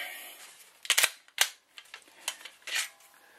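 Empty Glock 19 Gen 4 pistol being safety checked, giving a handful of sharp metallic clicks and clacks of the slide and action spaced irregularly, close and fairly loud in a quiet room.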